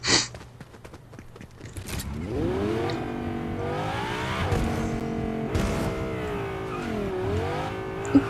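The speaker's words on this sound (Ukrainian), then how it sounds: "нам треба сідати в тачку і валити звідси" A car in the Fortnite video game pulls away, its engine revving in rising and falling sweeps that climb and dip repeatedly, loud and close with no talk over it.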